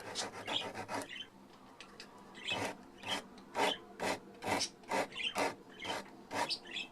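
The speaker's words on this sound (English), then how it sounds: "the sandpaper is actually better at filing than the file" Sandpaper rasping along the wooden headstock edge of a cheap bass kit, a steady series of rhythmic back-and-forth strokes, close and moderately loud, with no talk.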